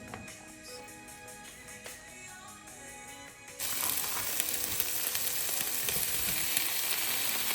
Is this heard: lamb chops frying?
yes